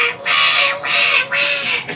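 A bird perched on a sailboat at sea gives three loud, raspy calls in quick succession, each a harsh buzzing squawk close to the listener.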